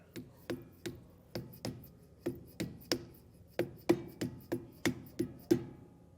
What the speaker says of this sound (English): We'll take our cap and just get that centered and give it some light taps with the hammer.